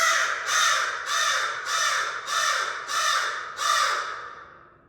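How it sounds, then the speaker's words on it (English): A crow caws loudly seven times in a steady rhythm, each harsh call close and clear, the last one fading. "There's always crows nearby"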